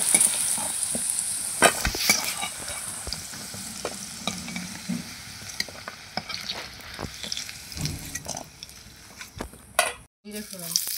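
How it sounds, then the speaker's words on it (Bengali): Potatoes for a fish curry frying in oil, a continuous sizzle with scrapes and knocks from stirring, clattering clearly up close and dipping briefly near the end. "এখন মাছের ঝোলের আলুগুলো ভেজে নেব।"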